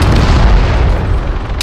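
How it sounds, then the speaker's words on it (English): Heavy booming gunfire in Arma 3 during a police patrol in the city of Metropolis, a dense low rumble filling the short stretch with a sharper crack near its end. "Where are them shots coming from? Shots in Metropolis."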